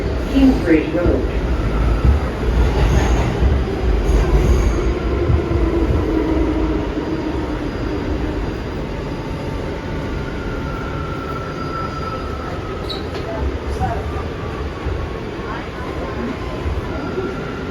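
A C subway train runs on the Concourse Line in the Bronx, a loud, steady rumble of wheels on track with faint squeals and rattles. The roar eases slightly partway through, and an automated announcement voice speaks over it.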